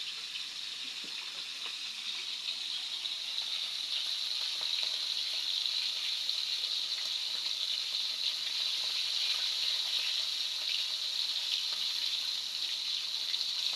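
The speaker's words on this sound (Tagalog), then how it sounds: "Yan po yung mga nagpipirito po ng mga itlog o galunggong." Galunggong fish frying in a hot pan gives a steady, close, loud sizzle with a bright hissing crackle that holds evenly throughout, with no talking.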